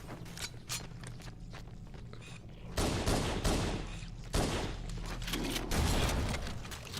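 Shotgun blasts and gunfire in Halo: Combat Evolved, with several loud booming shots over steady in-game combat noise and footsteps, no talk.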